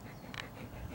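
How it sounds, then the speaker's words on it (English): A labradoodle, a big hairy Labrador-poodle cross, pants softly and lets out a brief whimper, faint and close against a quiet background. "is what is called a labradoodle. It's half Labrador, half poodle. And it's a big hairy beast."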